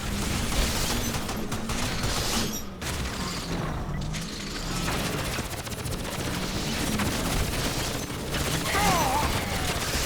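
Gunfire in the video game Crysis, with bursts of shots and mechanical clanks from a shotgun amid dense game noise, loud and sustained over several seconds.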